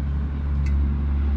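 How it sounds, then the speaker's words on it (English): A noisy truck passes on the interstate, a steady loud low engine and road rumble close by and continuous throughout. "And that's a noisy truck."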